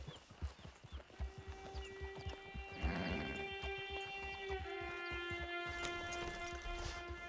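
A horse in Red Dead Redemption 2 online mode gallops with rhythmic hoofbeats that are close and steady, then slow as a held musical tone and ambient game sounds come up behind them.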